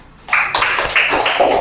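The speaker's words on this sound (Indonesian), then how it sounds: "Ya, tepuk tangan untuk semuanya." Second-grade schoolchildren clap together in a classroom. After a brief quiet moment, a dense, loud burst of hand claps starts and keeps going, close by.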